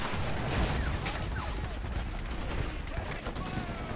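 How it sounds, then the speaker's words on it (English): Dense battlefield gunfire and mortar blasts fill the air in the Men of War: Assault Squad 2 war game during an assault on the Peleliu airfield, a constant loud barrage of overlapping shots and booms. "Mortars are dropping down on our heads!"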